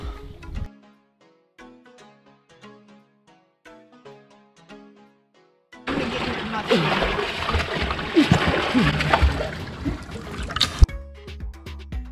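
A person jumps into the Colorado River at Gold Strike Canyon near Las Vegas: a loud, churning splash bursts in midway and keeps sloshing for several seconds, after quieter scattered sounds and faint voices.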